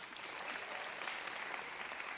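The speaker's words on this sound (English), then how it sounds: "So give these kids a big round of applause" Audience applause for a group of kids at a WoodSongs Kids live taping, a dense steady wash of many hands clapping at once, evenly sustained from start to finish.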